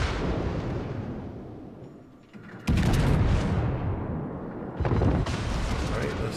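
Heavy turret guns of the British Tier-8 premium battleship HMS Vanguard fire in World of Warships, two loud broadband booms rolling into sustained rumble, the second salvo slightly later than the first amid continuous game noise.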